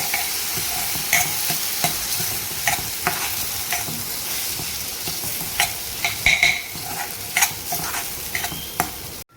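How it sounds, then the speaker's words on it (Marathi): Barnyard millet (varai) being stirred and roasted in ghee for a fasting-day rice dish, a steady soft sizzle with repeated sharp scrapes and clicks of a spoon against the pan, close and without any voices. "भगर आपल्याला छान अशी तुपामध्ये परतवून घ्यायची"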